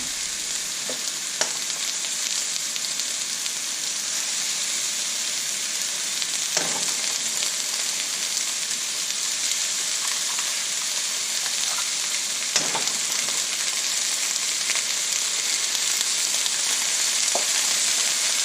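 Zucchini and eggs stir-fry in a pan with a steady, close hiss of sizzling that runs the whole time, broken by a few soft clicks and scrapes of stirring.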